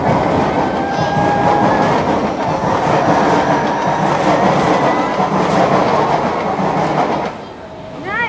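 A C651 train rumbles past close by near Buona Vista station, with a steady loud roar of wheels and motors and a faint high squeal, easing slightly near the end; voices murmur faintly underneath.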